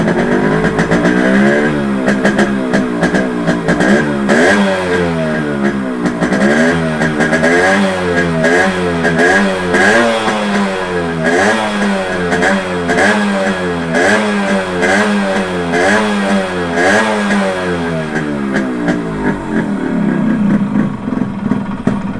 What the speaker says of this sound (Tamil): இப்போ நம்ம ஸ்டார்ட் பண்ணிவிட்டு எவ்வளோ சார்ஜிங் ஆகுதுன்னு பார்ப்போம். நம்ம வண்டி ஸ்டார்ட் பண்ணியாச்சு.